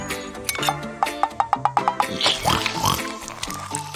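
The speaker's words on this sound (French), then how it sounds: "Un cochon? Il est mignon, tu ne trouves pas?" A pig oinks in a quick string of short, close, nasal grunts that fade into softer snuffles.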